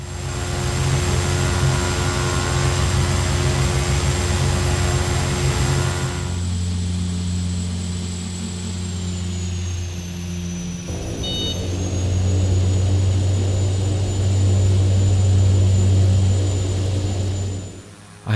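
Steady droning of a B-90 propeller aircraft engine, loud and continuous, with the pitch and tone shifting as the engine changes power.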